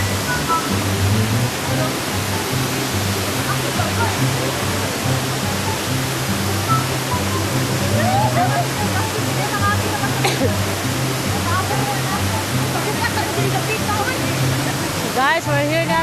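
The waterfall at Barili falls gives a constant, full roar of cascading water from start to finish, with people's voices faintly mixed in under the rushing.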